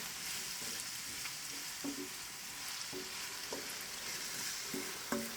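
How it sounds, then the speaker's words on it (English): Finely diced vegetables frying in oil for mushroom risotto, a soft continuous sizzle with a series of light scraping stirs spaced about a second apart, close but fairly quiet. "give it all a stir, get it all nicely coated in the oil"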